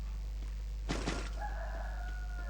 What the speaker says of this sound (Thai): ขันไม่หยุดเลยเฮีย